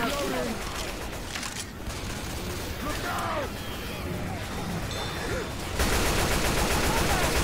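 Gunfire in a Rainbow Six video game comes as dense, overlapping shots and bursts inside a busy game soundscape, with a louder rattling burst near the end, and voices are heard through the mix.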